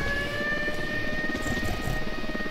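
A helicopter in the open-world shooter Ghost Recon Wildlands, a loud, steady engine drone with a sustained whine and a low rotor rumble, holding constant with no speech.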